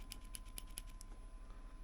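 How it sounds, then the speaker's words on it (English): A few quick, light mechanical clicks from a mechanical pencil, close and quiet, evenly spaced over a faint background hum, with no talking. "It does a mechanicaling."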